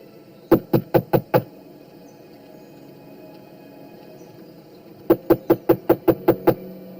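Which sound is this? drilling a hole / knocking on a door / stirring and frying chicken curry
knocking on a door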